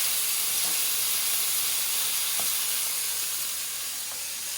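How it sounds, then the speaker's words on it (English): Chicken and shrimp fried rice stir-fries in a hot pan, giving a loud, steady sizzle and hiss throughout with a few faint scrapes of stirring. "you just keep on stir frying"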